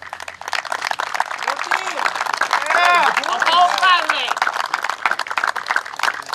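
A crowd applauds the 11 senior members of the Metamora high school baseball team at a game, steady dense clapping throughout with voices cheering and whooping in the middle.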